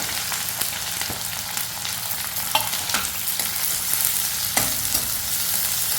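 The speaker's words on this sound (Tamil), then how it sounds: "கொஞ்சம் நல்லா வதக்கிடுவோம்" Garlic sautéing in a pan for a Tamil festival lunch, a steady broadband sizzle with occasional scraping stirs of a spoon, close and continuous with no talking.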